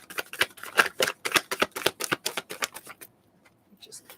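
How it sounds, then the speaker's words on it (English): A deck of tarot cards is shuffled by hand in a run of rapid, dry riffling clicks lasting about three seconds, close and crisp, then stopping, with a few light taps after. "Hold on, I have to like put this all back together because that's a pitiful shuffle."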